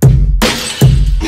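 A loud glass-shattering sound effect used in film score music, two sharp crashing bursts a little under a second apart, each followed by a ringing, scattering tail over a dense low musical bed.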